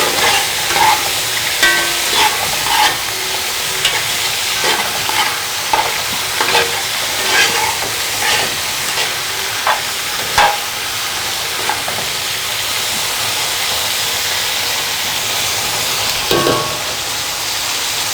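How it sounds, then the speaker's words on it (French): Salted potatoes sautéing in a pan, a loud continuous sizzle and crackle with repeated stirring scrapes and clatter throughout, nearby and without talk. "Nous allons les faire revenir pendant un bon moment."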